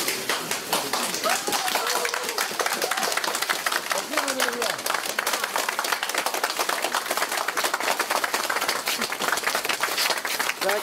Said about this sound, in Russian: Таких аплодисментов наш, наверное, тут никогда еще не слышал